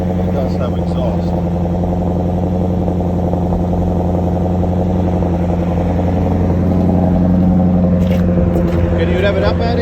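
A 2011 Audi S5 engine idles steadily after a cold start, a loud close drone with a firm low hum that rises slightly in pitch near the end, with faint clatter on top.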